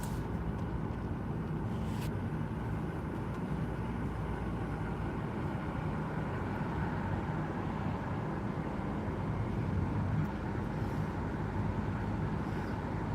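Steady low car engine hum and road rumble fill the cabin while driving, an even continuous drone with no talk, plus a faint click near the start.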